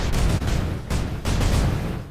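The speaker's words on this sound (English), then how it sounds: "The chutes will fully open, and boom, the craft breaks." A spacecraft breaks apart in Kerbal Space Program with a loud burst of crackling explosions, two or three rapid blasts in quick succession, close and noisy.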